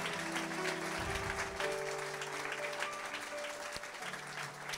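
A church congregation claps and cheers together in sustained applause, dense and steady throughout, with a held organ or keyboard chord underneath and faint voices mixed in.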